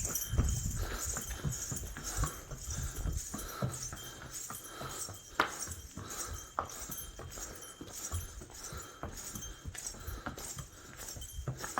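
A horse's hooves clip-clopping up an uphill path on the route to the Mata Vaishno Devi temple in Jammu, a steady series of sharp near clops with rustling and a few thumps in between.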